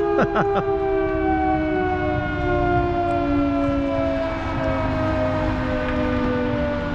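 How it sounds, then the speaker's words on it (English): A loud, sustained wailing siren holds steady tones throughout, with a few brief clanks near the start; no talking. "As soon as I video, the bloody fire siren goes off"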